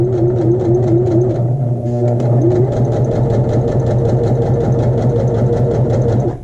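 A sewing machine stitches a straight line across a small muslin square, its motor humming and needle clattering in a fast, steady, loud run that keeps going throughout.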